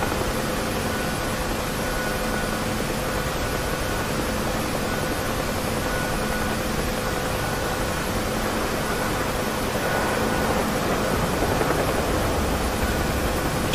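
A steady, droning helicopter engine hum in the DCS flight simulator fills the whole stretch, constant and moderately loud, swelling slightly near the end.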